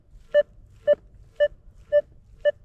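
A Rutus Atrex metal detector gives a target signal over rough ground: five short, clear beeps of the same pitch, evenly spaced about half a second apart against a quiet background.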